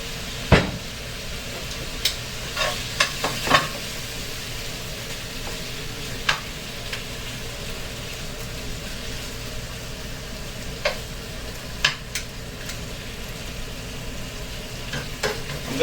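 Seasoned steak frying in oil in a pan, a steady low sizzle running throughout, with a few sharper clicks and taps of utensils scattered across it.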